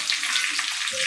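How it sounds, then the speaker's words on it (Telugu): Chopped ginger and green chillies fry in hot oil in a pan for wheat rava upma, giving a steady, close hiss of sizzling that runs evenly throughout with no talk. "ముందుగా తరిగి పెట్టుకున్న అల్లం, పచ్చిమిర్చి వేసుకుని కొంచెం వేగనివ్వాలి."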